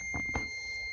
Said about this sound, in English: So I got a beep in park